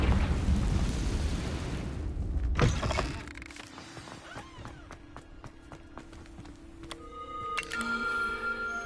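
A Confringo blasting spell in a Harry Potter-style video game: a loud, roaring burst of explosive noise that cuts off abruptly, followed by quieter magical chimes and tones.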